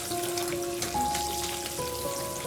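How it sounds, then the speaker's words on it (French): Pieces of pork chine browning in a saucepan, giving a steady, dense sizzle and crackle of meat frying in fat, close and continuous with no voices. "on va ajouter des échines de porc"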